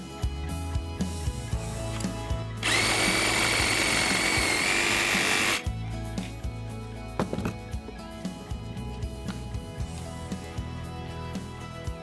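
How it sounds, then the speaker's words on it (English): Sawzall reciprocating saw cutting through deer leg bone during skinning: a loud, close burst of harsh buzzing sawing lasts about three seconds, framed by quieter handling clatter and knocks. "when I get to the bone, I'm gonna use this Sawzall"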